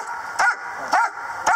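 A police dog barks three times in quick succession, short sharp barks spaced about half a second apart, loud and close with no talking.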